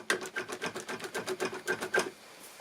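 A loosened engine cover rattles and vibrates rapidly after its zip ties are cut, producing a steady run of buzzy clattering pulses close by with no talk over it.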